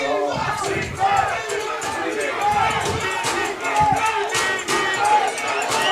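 A sideline crowd at a U16 Canadian football gold-medal game between Quebec and Ontario yells and chants in rowdy bursts, with voices shouting over one another close by.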